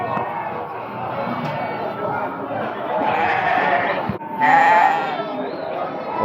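Sheep and goats bleat continuously at the Məşdağa livestock market, a dense chorus of overlapping calls with people chattering around them, loud and close.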